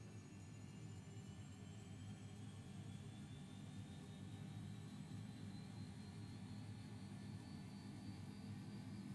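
Beechcraft King Air C90 turboprop engine spooling up during a start in the X-Plane 11 flight simulator, a steady loud droning roar with a high turbine whine slowly rising in pitch throughout.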